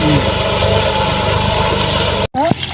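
A small 240 tractor engine idles with a loud, steady rumble that briefly cuts out near the end before resuming, with a voice faintly underneath.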